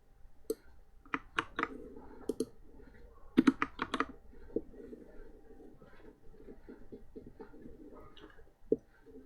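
Keyboard keys clatter in quick irregular bursts as class names are typed into the Protege ontology editor, sharp close clicks clustering then thinning out over a quiet room with faint murmur.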